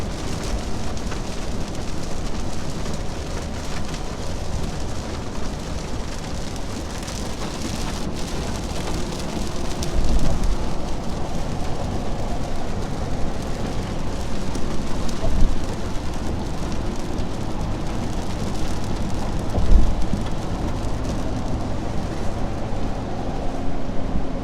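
Steady heavy rain pours down in a dense, continuous hiss around the listener, with low rumbling swells that may be thunder rising now and then, and no voices.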